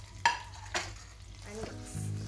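Tomatoes drop into a hot frying pan for fried rice, with a brief clatter and stirring scrapes over a steady sizzle, near and moderately loud, with no talk.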